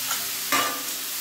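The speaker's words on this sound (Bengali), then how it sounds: "গাজরগুলো দিয়ে ভালো করে আমি এটাকে ভেজে নেব।" Grated carrots for carrot halwa fry in ghee in a kadai wok. A close, steady sizzle runs throughout, broken by one brief stirring scrape midway, with no talking.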